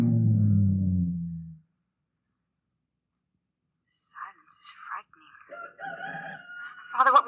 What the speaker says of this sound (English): sounds like a rooster.